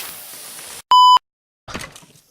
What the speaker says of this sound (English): I'm glad I beeped out that swear word.